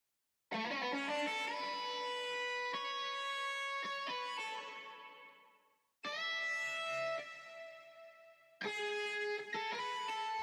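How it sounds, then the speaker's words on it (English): Chopped electric guitar phrases ring out with a washy reverb tail, cutting off abruptly between sections, with one fading out slowly before the next starts. "I just chopped it up a bit and it sounds like this."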